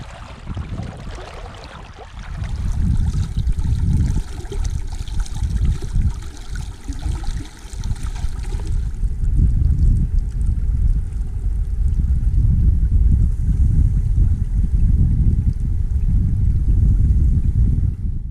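Inflatable boat cruising down Loch Etive in Scotland, a steady loud motor drone with water rush and wind noise running throughout, no talking.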